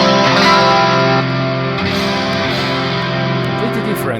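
Electric guitar with raw distortion and no added plugin effect, playing a crunchy sustained passage loud and steady throughout, with shifting chords and no voices.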